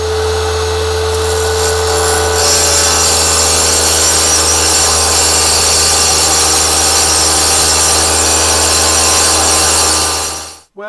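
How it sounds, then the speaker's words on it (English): A lapidary saw grinds steadily through a pear-shaped amethyst gemstone to trim a flat face, a loud sustained buzzing whine with a constant motor hum that holds for about ten seconds before cutting off abruptly. "go back to the saw and trim this down to try and get a nice flat"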